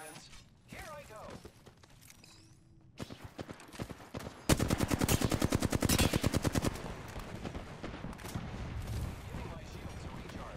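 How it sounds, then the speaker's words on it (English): Flatline rifle fire in a video game shooter: a short loud stretch of rapid, evenly spaced automatic shots, followed by continued fainter firing and game noise. "I am taking fire, friends"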